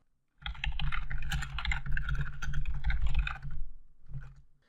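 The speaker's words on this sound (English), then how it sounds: "I'm going to use my keyboard now" Rapid typing on a computer keyboard, a dense close burst of clicking keystrokes lasting a few seconds, then a brief pause and a short final flurry.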